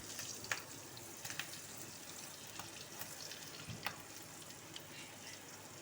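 Steady sizzling hiss of spices tempering in hot oil for a whole moong dal dish, with small pops and crackles scattered throughout at low volume.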